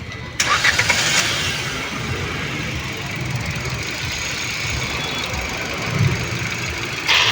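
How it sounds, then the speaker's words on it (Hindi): Car engine with a bad misfire being cranked and restarted after stalling: a sudden start that settles into a loud, rough, uneven running drone with knocking pulses close by. "देखिए बंद हो गई, फिर से स्टार्ट कर लेते हैं।"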